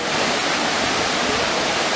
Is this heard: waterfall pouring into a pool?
yes